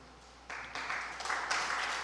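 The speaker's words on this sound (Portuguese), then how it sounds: "Vamos ficar de pé e aplaudir o Senhor." A church congregation breaks into applause, starting faintly and swelling within a second into broad, steady clapping from many hands.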